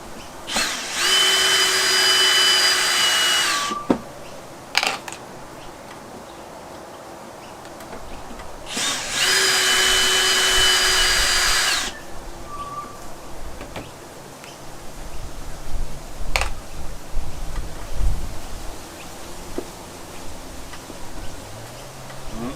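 A power drill backs out the screws holding the grill plate on a Fender Blues Jr guitar amp, two loud sustained whirring bursts separated by quieter clicks and handling noise, up close and with no talking.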